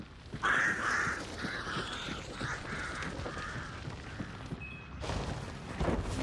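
Myna birds in a video game give a string of harsh, squawking calls, about half a dozen in a row, over low rumbling game sounds, followed by a brief burst of noise near the end.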